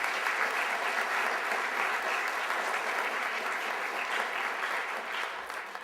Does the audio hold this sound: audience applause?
yes